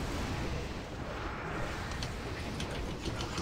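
Video game artillery shelling: heavy rumbling barrage of booms and blasts, a dense continuous wall of distant explosions with sharper cracks near the end, no voices.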